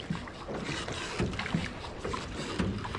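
Small rowboat on a Tam Coc river tour in Ninh Binh, paddled by a rower using the feet, gives soft rhythmic water strokes and splashes with light wind noise, close by and steady, no talk.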